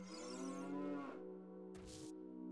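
A cow in The Legend of Zelda: Ocarina of Time gives a long, loud, drawn-out moo, followed by a brief rustling burst.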